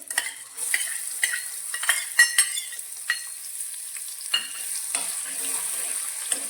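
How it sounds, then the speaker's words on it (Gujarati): Chopped large onion frying in hot oil over a medium flame, a steady bright sizzle broken by repeated stirring scrapes and clinks of the spoon in the pan, close and continuous with no talk. "આ ડુંગળીને 2 મિનિટ માટે સાતળી લઈશું જેથી તે સારી રીતે સોફ્ટ થઈ જાય"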